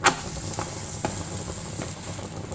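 A corn cheese paratha roasts on a pan over medium heat, giving a steady, even sizzle and hiss with a few faint ticks, and no voices.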